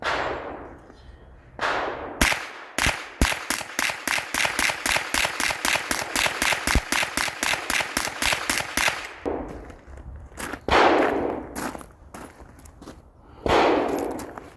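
A Smith & Wesson rifle fitted with a CMMG .22LR conversion kit fires a fast string of about twenty sharp, closely spaced shots, loud and near, bracketed by a few single reports and pauses.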